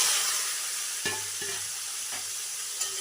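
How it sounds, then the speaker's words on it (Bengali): Eggplant pieces fry in hot mustard oil, giving a dense, steady sizzle, with a few distinct knocks from a utensil turning the pieces in the pan. "বেগুনগুলোকে লাল লাল করে ভেজে নেব"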